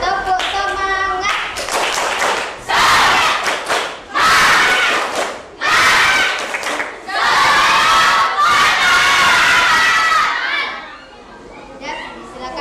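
A class of schoolchildren performing a rhythmic 'tepuk semangat' clapping cheer, loud bursts of unison claps and shouted chants in several rapid sections, with a teacher's voice briefly at the start.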